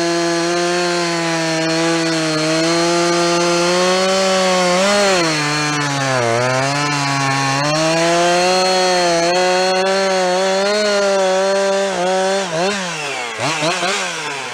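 An old, cheap chainsaw pulled from the trash runs steadily at a high buzzing pitch with rising and falling revs, close and loud, dipping and sputtering near the end.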